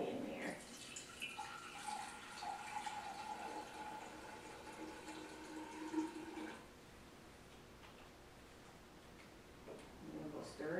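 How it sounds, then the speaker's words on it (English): Water poured into a container in a simple demonstration, a sustained splashing, trickling pour lasting several seconds, fairly quiet, then stopping and leaving faint room sound with light handling noises. "And we'll pour that in there."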